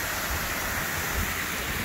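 Water rushing down a wooden chute to turn the wheel of a historic gristmill at Stone Mountain, a dense continuous roar of falling water, steady and fairly loud with no pauses.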